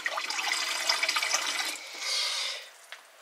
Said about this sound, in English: also using the water from the filtered tap to do my 4 cups